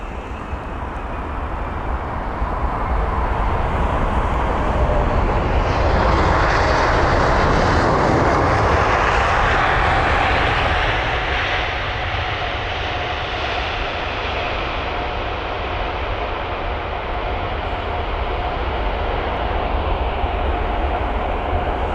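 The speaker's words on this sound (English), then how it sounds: "this is Emirates and their A380 with reg Alpha 6 Echo Oscar Tango, or A6 EOT, and it is the flight from Dubai" An Emirates Airbus A380 jet lands at London Heathrow, a loud, broad engine roar building to a peak near the middle and then easing into a long, steady rumble.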